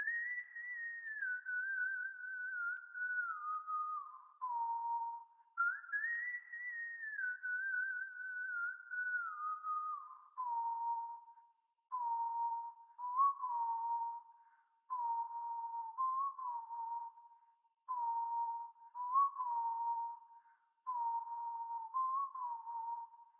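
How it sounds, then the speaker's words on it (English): Live whistling for a dark trap beat: a clear solo melody with long falling phrases at first, then short repeated notes in a steady rhythm, close and alone without other sound. "And next is some live whistling."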